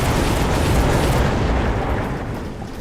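A missile blast strikes a shield in the Mechabellum strategy game: a loud, sustained, rumbling explosion that fills the whole clip and slowly fades toward the end, with no speech.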